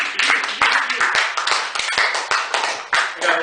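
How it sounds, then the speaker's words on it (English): An audience at a poetry reading in a Chicago cafe claps in a quick, close, steady burst of applause with sharp individual hand claps. "Clap for that."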